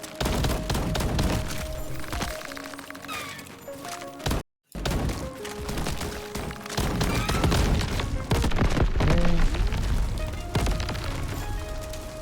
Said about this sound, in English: volatile explosions